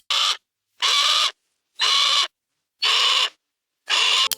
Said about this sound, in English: Parrot sounds like squawk squawk.